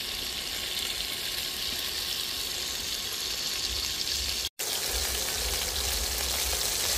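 Loud, continuous sizzling and crackling of chicken legs frying in hot oil, broken by a very brief cut of silence.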